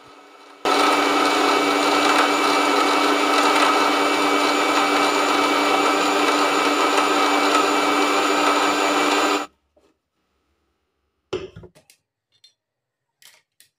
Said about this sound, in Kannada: ಈಗ ಮಿಕ್ಸಿನ 30 ಸೆಕೆಂಡ್ ಉಲ್ಟಾ ತಿರುಗಿಸ್ಬೇಕು.